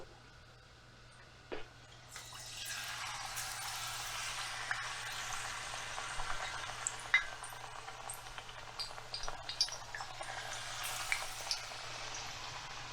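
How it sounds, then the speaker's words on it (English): Squash and green beans fry in bacon grease with a steady, moderately faint sizzle that builds after a quiet start, punctuated by occasional clinks of a utensil. "while this squash is frying up and while these green beans are warming through with that good old bacon grease in there"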